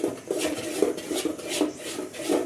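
Dosa batter being stirred in a bowl, with steady scraping and sloshing strokes that repeat in an even rhythm, close up and clear, with no talking.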